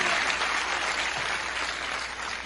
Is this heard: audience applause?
yes